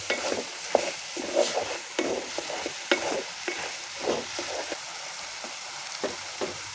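Onion greens and egg stir-fry in a pan, with steady sizzling and repeated scraping, clinking strokes of a spatula at a quick irregular rhythm, close and fairly quiet, with no talk.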